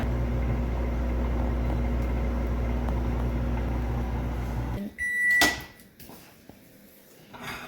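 A microwave oven heating banana pudding hums steadily and loudly, then stops, followed by a beep, the door opening and some clattering close by.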